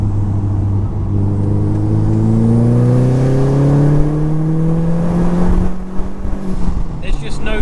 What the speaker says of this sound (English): Let's do another third gear pull.